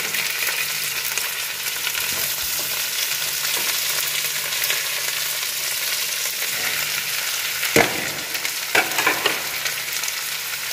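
Onions fry in a pan with a steady, close hissing sizzle throughout, broken by a couple of sharp clicks near the end, with no voices.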